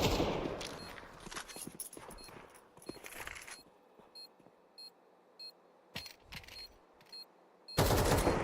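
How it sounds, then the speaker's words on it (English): Counter-Strike 2 gunfire: dense rifle and pistol shots early on, then scattered isolated shots and short bursts with quiet gaps, fairly faint and distant, and a loud final burst of shooting at the end. "A couple of bullets connecting, but nothing really lethal."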